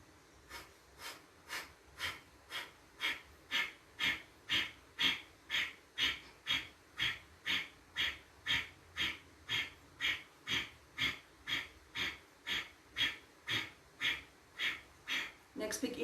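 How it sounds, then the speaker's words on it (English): Deep rhythmic breathing in a women's yoga breath practice, roughly two dozen strong, even breaths in a steady pulse, each a forceful rushing puff close to the microphone. "So when you're ready, on the next inhale,"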